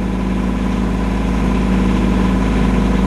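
A boat's engine runs steadily at constant RPM while driving its alternator, a loud close mechanical drone with a low throbbing pulse and no change in pace.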